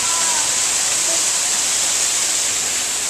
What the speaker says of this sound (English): Indoor waterfall.